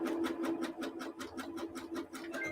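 A sewing machine stitching rope into a bunny-shaped rope coaster, running in a fast, even series of needle strokes with a steady motor hum, close and alone.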